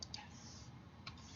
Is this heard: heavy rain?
no